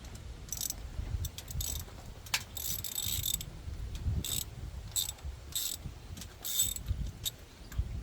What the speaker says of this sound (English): first thing we're going to do is loosen our number 1 injector